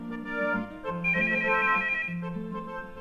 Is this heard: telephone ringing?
yes